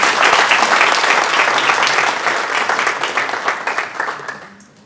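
Audience applause at a ceremony honoring a professor, a dense crowd clapping loudly and steadily, then fading out over the last second.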